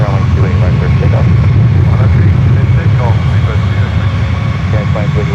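British Airways Airbus A380 jet lined up on runway 28 Left at San Francisco airport, giving a loud, steady, close engine roar that holds for the whole stretch while radio voices talk over it.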